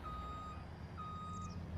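A truck in Farming Simulator emits steady reversing beeps, repeated evenly over a low engine rumble, moderately distant and faint.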